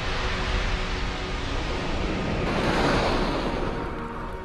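Open ocean waves surge in a steady, broad wash that swells slightly toward the middle, continuous and fairly loud with no voices.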